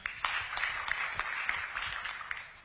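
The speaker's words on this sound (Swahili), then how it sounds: "Makofi tafadhali" An audience at a Nyeri County leaders' meeting claps together in a short burst of applause that fades slightly over a few seconds, with no one speaking.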